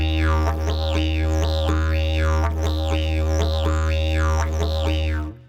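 A didgeridoo plays a written-down rhythm, its deep steady drone overlaid with repeating vowel-like mouth shapes and accents in a bouncing pattern, loud and close, stopping cleanly at the end.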